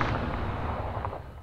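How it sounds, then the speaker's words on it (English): Deck guns firing in a video game sound effect, a booming low blast that rolls on with a dense rumbling tail and fades away over about a second and a half. "And that's the sound we get of our deck guns being fired."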